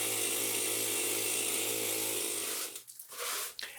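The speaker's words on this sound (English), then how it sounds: "I'm also using kind of a pneumatic hammer for those really hard" A pneumatic hammer chatters against a painted basement wall as it scrapes paint away, a steady close buzzing rattle that cuts off near the end into a few brief scraping bursts.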